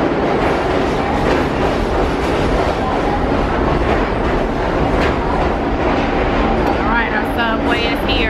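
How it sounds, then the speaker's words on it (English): A New York subway train pulls into a station, loud and close, with rumbling wheels, clattering cars and brake squeals near the end, and people can be heard talking over it. "Subway is here, a train, head back to the hotel"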